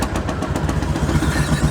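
A vintage tractor engine runs steadily at an outdoor vintage field day, its rapid, even firing pulses loud and close with a continuous rumbling throb and no voices over it.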